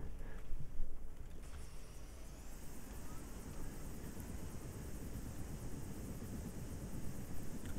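A helicopter in the video game Battlefield 2 drones steadily and fairly loud throughout, a continuous rotor and engine roar with no talk over it.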